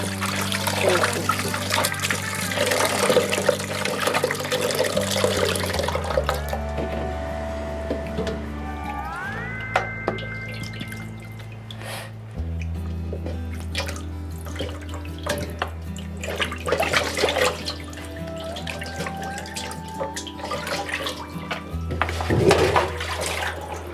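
Running water splashes and trickles steadily over raw fish being gently rinsed for fish curry, with soft handling noises, while background music plays throughout.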